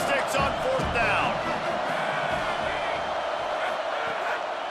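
Stadium crowd noise in College Football 27 during a Duke versus NC State game, a broad wash of cheering and shouts with occasional whoops, steady under a commentator's voice.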